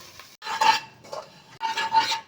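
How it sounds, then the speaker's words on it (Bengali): A spoon stirring chicken filling mixed with biscuit crumbs in a pan for Kolkata-style chicken Mughlai paratha, two separate bursts of scraping and rubbing against metal with brief quiet between them. "এবারে আমি দিয়ে দেব বিস্কুটের গুঁড়ো, দিয়ে পুরের সাথে একটু নেড়ে নেব।"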